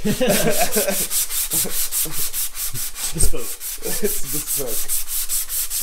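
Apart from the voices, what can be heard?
hand sanding a guitar neck with 180-grit sandpaper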